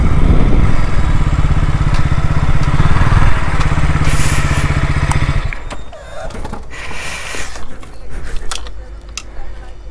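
A Hero Splendor motorcycle engine runs with a steady, close, chugging putter for about five seconds, then drops away to quieter clatter and handling noise with faint background sounds.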